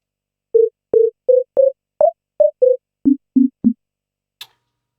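A series of short synthesized DTMF phone-tone beeps built around a 697 Hz low tone, about ten evenly spaced tones shifting slightly in pitch, clean and close with silence between.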